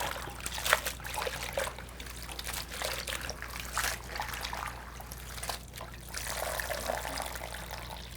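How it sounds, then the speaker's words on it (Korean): Water trickling and dripping steadily from washed young radishes draining for kimchi, a close, continuous patter with small splashes and no voices. "열무를 깨끗이 씻어서 지금 물기를 이렇게 빼고 있습니다"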